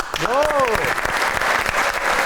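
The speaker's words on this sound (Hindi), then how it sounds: "तालियां।" Studio audience applause on a Pakistani celebrity talk show, a steady wash of clapping that fills the clip, with a brief tonal voice sweep near the start.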